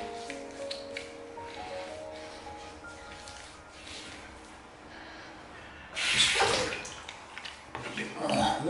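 Water splashes onto a face during a wet shave, a short burst of running and splashing after quieter handling sounds, with a second splash near the end.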